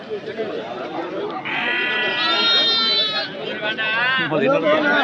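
Native goats bleat at a busy livestock market in Anthiyur, with several wavering calls nearby rising over constant crowd chatter and someone speaking close by.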